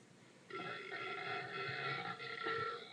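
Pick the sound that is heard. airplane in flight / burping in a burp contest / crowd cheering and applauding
burping in a burp contest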